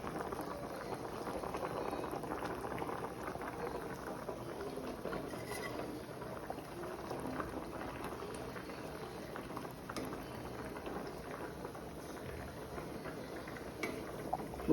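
Fish curry with sardines, bilimbi and coconut milk bubbles in a pot, a soft, continuous low simmer with quiet patter and occasional faint clinks, fairly distant and without talk.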